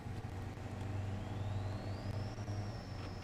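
A four-cylinder truck engine in the video game SnowRunner drones steadily with a low rumble, revving up gradually as a rising whine climbs and then holds, no voices.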